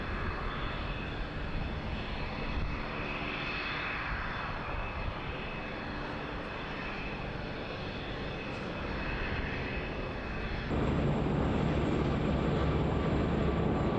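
A formation of Army aircraft, five Blue Eagles display helicopters followed by three historic fixed-wing planes and three helicopters, passes over an air show at RAF Fairford with a loud, steady engine drone that swells louder toward the end.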